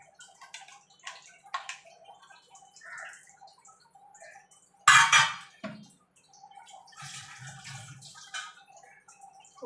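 Gondhoraj buttermilk stirred with cold water gives soft liquid swishing and drips, with one louder sloshing splash midway, close and quiet overall.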